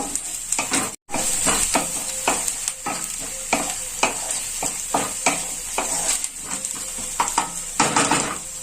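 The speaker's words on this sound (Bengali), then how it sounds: "এবার আমি এর মধ্যে কাঁচা লঙ্কা কুচিগুলো দিয়ে দেব। এটাকে আমি একটু নেড়ে নেব।" Onion fried until reddish, now joined by chopped green chillies, is stirred in a pan with a steady sizzle and repeated scraping strokes of a utensil against the metal, close and fairly loud, with no talking.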